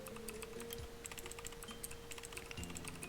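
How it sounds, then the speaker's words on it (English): Slow typing on a computer keyboard, a steady run of light key clicks scattered across the whole stretch with a constant background tone underneath and no talking. "I'm typing very slowly."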